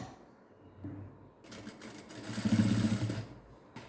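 A sewing machine stitches a piping border, starting faint then running in a fast mechanical rattle that swells midway and cuts off near the end, with no voices.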